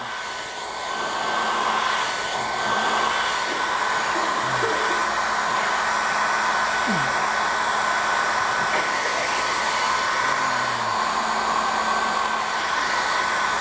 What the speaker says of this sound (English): You don't have to get a fancy hairdryer like this. Any hairdryer will work.